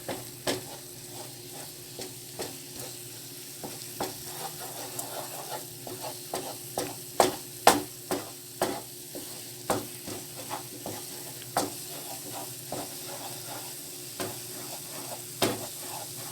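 Choux dough for profiteroles being stirred in a pan on the heat, a soft steady sizzle under repeated sharp spoon taps and scrapes against the pan, roughly one every second or two.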